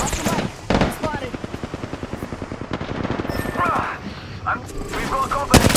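Rapid automatic gunfire crackles through an Apex Legends firefight, dense repeated shots in a fast steady rhythm with louder bursts near the start and end, mixed with in-game effects and character callouts.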